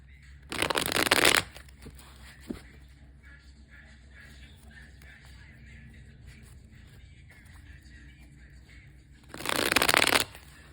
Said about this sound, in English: I'm going to shuffle this deck just a few more times.